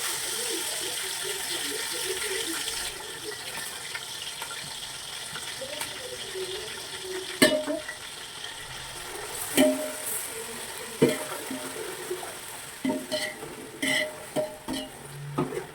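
Ginger garlic paste fries in a pan for biryani under a continuous soft sizzle, broken by several sharp spoon scrapes and knocks of stirring in the later half.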